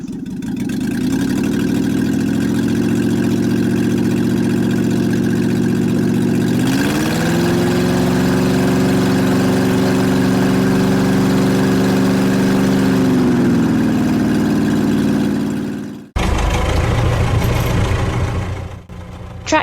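An auto cart engine idles with a steady, loud, continuous drone that shifts slightly in pitch partway through, then cuts off abruptly before restarting.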